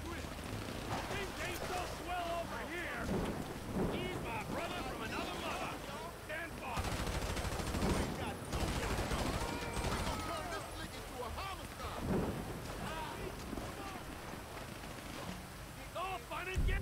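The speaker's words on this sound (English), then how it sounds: "There's blind firing right now." Constant rattling gunfire and distant booms in a foggy video game battle, continuous and fairly loud, with a player talking over it.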